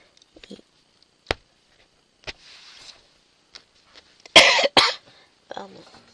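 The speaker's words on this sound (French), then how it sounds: "Pardon. Je tousse." A few sharp coughs in a quiet room, spaced out, ending in a louder burst of coughing followed by a softer voice.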